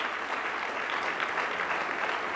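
Audience applause at a banquet induction ceremony, a dense, steady wash of many hands clapping continuously at moderate loudness throughout, with no speech over it.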